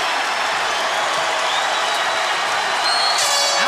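Crowd at a UFC fight between Robert Whittaker and Yoel Romero cheering and applauding, a steady dense roar of clapping and voices that holds loud and even throughout.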